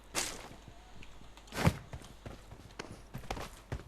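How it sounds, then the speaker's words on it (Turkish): Footsteps in PUBG Mobile on the Erangel map near Pochinki, a few irregular thudding steps with one louder close impact partway through, over low background noise. "Ayak sesi alıyor gibiyim sanki ya."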